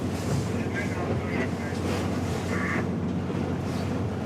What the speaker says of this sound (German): Jetzt kommen Wind und Wasser von vorne.